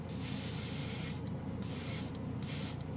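An airbrush spraying thinned Dupli-Color clear gloss paint onto a plastic model: three close, steady hissing bursts separated by short pauses, with no talking.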